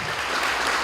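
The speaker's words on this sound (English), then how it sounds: "A round of applause for John Iko." A brief burst of dense clapping comes from the audience at a secondary school debate grand final in Kokopo, welcoming a judge.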